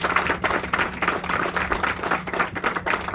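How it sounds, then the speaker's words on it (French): Crowd applause, a dense burst of many hands clapping, loud and close, continuing evenly throughout. "pour qui je demande une acclamation forte"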